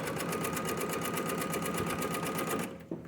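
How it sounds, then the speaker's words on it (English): A sewing machine runs steadily while stitching a quilt block seam, a fast even whir of needle strokes that holds for nearly three seconds before stopping abruptly, close and without talk. "We're going to sew right up to the pin, pull it out at the last minute, and now off the end."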